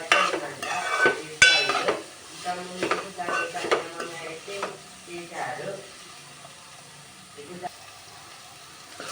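Beetroot frying in a pan is stirred with a spoon, giving scraping, clinking strokes over a soft sizzle that grow quieter and sparser toward the end.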